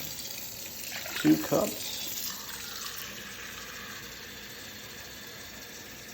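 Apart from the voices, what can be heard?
filtered tap water filling a measuring cup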